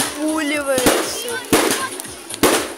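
Fireworks going off at a children's summer camp, three sharp loud bangs spaced about a second apart, with a voice talking in the background.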